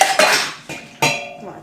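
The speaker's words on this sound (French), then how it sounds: "je vais ranger la vaisselle de ce matin, ça va m'occuper" Dishes and cutlery being put away in a home kitchen: three distinct clattering knocks of plates and utensils, close and fairly loud, with no talking.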